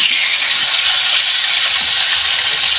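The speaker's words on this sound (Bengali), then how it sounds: "ইলিশ মাছ খুব লাল লাল করে ভাজে না" Hilsa fish fries in hot oil with a loud, close, continuous bright sizzle and crackle that holds steady throughout.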